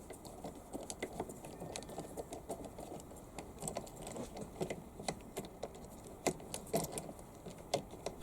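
A thumb screw is tightened on a battery terminal puller tool whose hooks sit under a car battery terminal, giving a run of small close metallic clicks and jangling ticks in an irregular rhythm, no talking.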